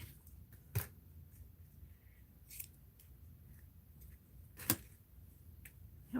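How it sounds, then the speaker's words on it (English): Scissors snipping fabric during a fabric-cluster craft project, several quiet separate sharp cuts spaced seconds apart over a faint background. "Here's a snip of silver."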